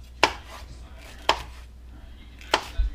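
A knife cuts fresh peppers into stir-fry strips for chicken teriyaki, giving three sharp, evenly spaced chops on a board, close and distinct against a quiet kitchen background.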